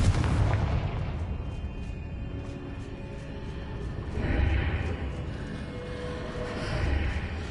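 Confringo fire-blast spell cast in the Hogwarts Legacy video game: loud booming bursts at the start, middle and end over a rumbling game soundscape, with no talking.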